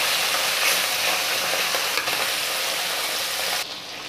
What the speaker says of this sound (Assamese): লোহাৰ কেৰাহীত মাছ ফ্ৰাই কৰাৰ মজাই বেলেগ